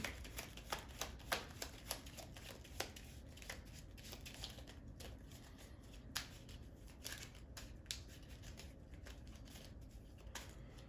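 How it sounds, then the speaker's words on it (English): Faint, soft riffling and light taps of Marvel Champions card game cards being shuffled repeatedly into the encounter deck, close up and quiet, with no talking. "we will shuffle that into the encounter deck"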